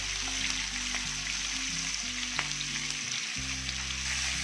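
Fish slices fry on a flat tawa over a low flame, producing a dense, steady sizzle up close with faint spatter ticks and soft background music underneath.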